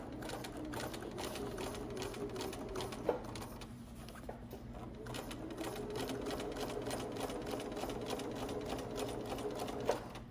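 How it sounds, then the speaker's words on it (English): A sewing machine runs continuously while stitching a fabric patch down in circles, a steady close whir with fine rapid needle ticking and small shifts in pace throughout. "Sewing in circles can be a little more challenging than straight lines."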